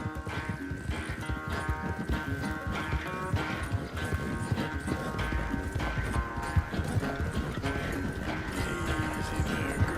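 Steady clip-clop of a horse's hooves in the game Red Dead Redemption 2, an even rhythmic trot running throughout with no one talking.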